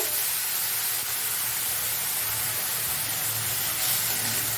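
Pumpkin pieces fry in a pan as a dense, even hiss of oil that stays steady and loud throughout with no talking.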